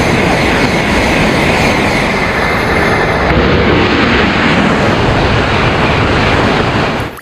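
A toy high-speed train gives off a loud, continuous rail-like roar with a rattling edge, steady and close from start to finish, no voices over it.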